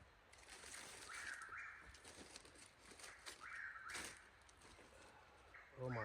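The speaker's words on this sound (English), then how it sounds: "Them birds still going crazy," Birds calling outdoors at a backpacking campsite near a waterfall, with faint repeated chirps over a rushing water-like background and a soft voice near the end.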